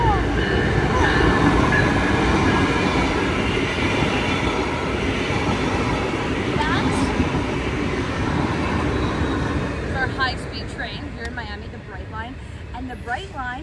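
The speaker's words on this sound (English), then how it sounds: "Check out the Brightline coming by in" A Brightline passenger train rumbles past in an urban setting, a loud sustained roar of rolling wheels and rail noise with some squealing as it moves off, while a voice speaks over it.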